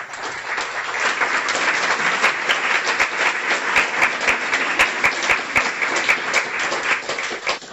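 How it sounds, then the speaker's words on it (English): A graduation ceremony audience gives a warm round of applause, sustained and fairly loud throughout, with individual sharp claps standing out from the dense wash of clapping. "we have a warm round of applause to recognize Dr. Estrich"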